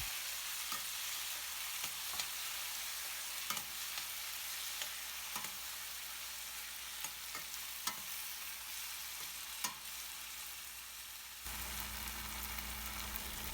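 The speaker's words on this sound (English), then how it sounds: "After 3 minutes of cooking, add 2 tomatoes to it and mix it well." Onions and tomatoes frying in a pan for veg biryani, a steady sizzle broken by occasional scrapes and taps of a stirring utensil, heard close.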